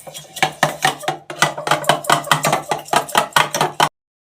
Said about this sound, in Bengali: এটাকে ভালো করে ফেটিয়ে নিয়ে তারপর জল দেবো